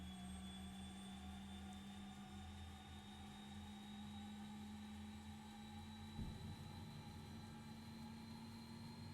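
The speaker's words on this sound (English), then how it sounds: "That's how your turboprops fire up" Simulated turboprop engine spooling up during startup in the X-Plane 12 flight simulator: a steady, loud turbine whine and low drone with slowly rising pitch, a brief thump-like shift partway through, and no talking.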